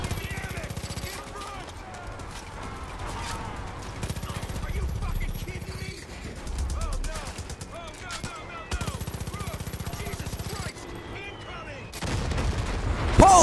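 Dynamite blasts and gunfire in Far Cry 5, a sustained chaotic stretch of shots and booms with music running throughout, rising to a loud burst at the end.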